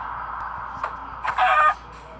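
A chicken outdoors by a campfire gives a short, loud, close squawking cluck after a few faint sounds.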